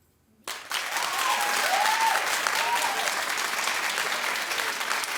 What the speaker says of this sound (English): Clap if you don't care because you don't watch Kardashians anymore